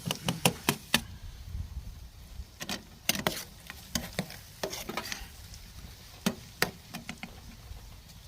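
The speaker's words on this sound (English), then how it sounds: "Let's throw in the garlic and the onions." Garlic and onions go into a pan with bacon at a stealth campsite outdoors, giving a low frying hiss broken by sharp clicks and taps of a utensil against the pan, close by.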